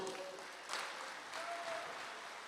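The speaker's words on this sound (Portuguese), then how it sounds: "Pode aplaudir ao Senhor" Church congregation applauding at a worship service, a soft, steady wash of clapping that swells slightly midway, fairly distant and moderate in level, with no talk over it.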